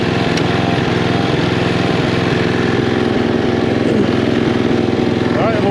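A Toro riding lawn mower engine runs loud and steady up close, a constant rough droning hum with the blade spinning, with brief voices under the noise.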